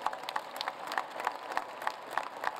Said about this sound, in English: Let's give Leslie a round of applause.